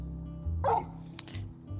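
A dog in the video game Final Fantasy XVI gives a short bark and yip, one brief close sound over a low steady game ambience.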